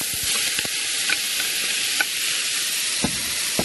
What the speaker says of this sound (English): Add some olive oil, just like that. Stir it around, and then start sizzling.